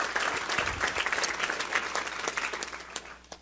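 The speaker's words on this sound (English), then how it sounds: "If we give them a quick round of applause for taking time out of their schedules" Luncheon audience applauds steadily at a state-of-the-state event, dense clapping filling the whole stretch at moderate volume with no speech over it.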